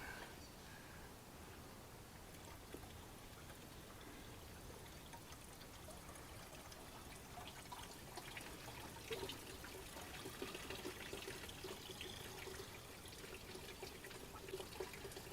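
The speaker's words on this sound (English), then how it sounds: "we'll dump a little distilled water in there. Help flush it out just a little bit more." Distilled water is poured into the radiator of a 1997 Ford Ranger to flush out old coolant, a faint, continuous splashing trickle that runs steadily for several seconds.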